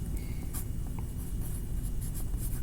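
A pencil or crayon scratches across paper in a steady, close rasp as sky-blue clouds are drawn, with faint stroke ticks and no talking.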